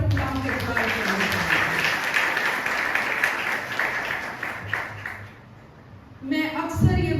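A church congregation applauding loudly, a dense wash of clapping that carries for several seconds and then dies down, followed by a voice speaking.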